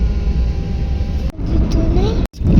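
A car sits idling in traffic at a red light, its low engine rumble steady and close, interrupted by a couple of brief dropouts, while people talk over it.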